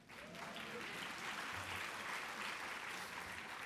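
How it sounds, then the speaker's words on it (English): An audience at a 2015 racial equity conference applauds in a steady, dense wash of clapping that sounds faint and distant and lasts throughout. "You can clap for that."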